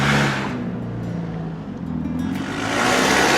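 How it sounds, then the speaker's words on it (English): A car with a loud, noisy exhaust roars past on a street in West Bromwich, its rumble swelling near, dipping as it goes by, then rising again. "They have a competition at the moment for noisiest exhaust in West Bromwich."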